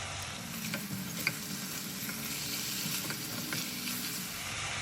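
Chicken stir-fry seasoned with pepper and powdered stock sizzles steadily in the pan, with occasional clinks and scrapes as it is stirred, close and continuous without talk.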